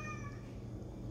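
A house cat gives a single short meow at the start, close and clear over a low steady room hum.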